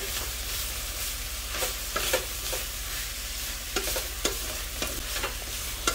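Chicken filling for crispy rolled tacos being stirred in a pan, with a soft continuous sizzle beneath scattered scraping clicks of the spoon against the pan at an unhurried, irregular pace, close and moderately loud.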